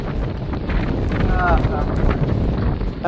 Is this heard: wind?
yes